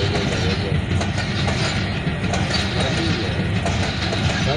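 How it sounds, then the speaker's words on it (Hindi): The 18 Down Millat Express, hauled by a Hitachi locomotive, passes an unmanned level crossing near Sargodha, Pakistan. Its wagons roll by close and loud in a continuous rumbling clatter. "मैं इस वक्त एक ट्योटा हाईएस में बैठा सरगोधा के करीब एक रेलवे फाटक पर से गुजरती 18 डाउन मिलत एक्सप्रेस को देख रहा हूँ।"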